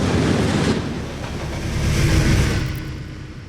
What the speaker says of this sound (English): Oh, well, there's the train.